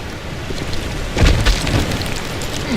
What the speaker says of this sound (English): perched on the edge of a precipice, overlooking a thundering whitewater river